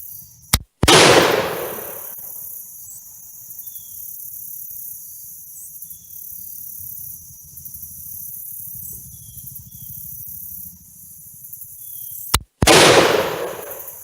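French MAS 49-56 rifle fired at an outdoor range: two loud, sharp rifle shots about twelve seconds apart, each followed by a short echoing decay, with quiet insect chirping and low ambient rumble in between.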